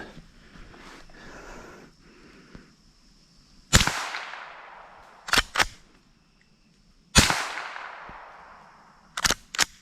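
Two sharp cracks of a Rossi Gallery .22 LR rifle fired while squirrel hunting outdoors, each followed by a brief metallic double click of the action being worked, close and loud over faint background.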